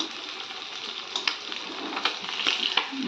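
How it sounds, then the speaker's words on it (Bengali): Large morola fish fry in hot oil, a close, continuous crackling sizzle with small popping bursts, heard alone. "তো বড় মাছটা আগে ভেজে নেব তো এই দেখো মাছগুলো দিয়ে দিয়েছি"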